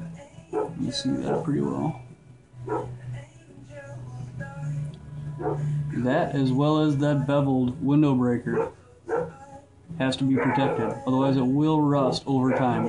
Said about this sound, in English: Sorry about the dogs going off in the background here